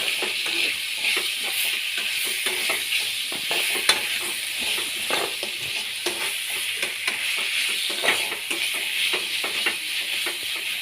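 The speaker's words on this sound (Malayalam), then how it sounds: "തക്കാളിയും സവാളയും നന്നായിട്ട് ഇളക്കുക." Tomato and onion sizzle steadily in a frying pan for a tomato chutney, with repeated scraping and clicking strokes of a stirring ladle throughout, close and fairly loud, no voices.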